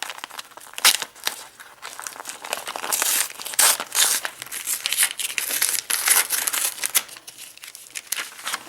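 Paper mail envelope being torn open by hand, loud crinkling and ripping in uneven bursts close to the microphone, with brief pauses between tugs.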